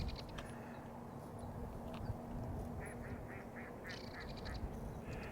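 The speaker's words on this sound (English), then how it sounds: "You can hear the ducks out there." Ducks quacking in short repeated bursts at a distance at El Rio Preserve in Marana, over a steady outdoor background hum.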